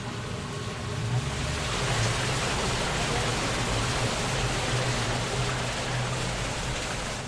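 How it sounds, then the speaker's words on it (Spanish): Water rushing through underground distribution pipes beneath a street in Mexico City, heard as a steady, dense, broadband roar with no breaks. "sí se siente que está el agua corriendo"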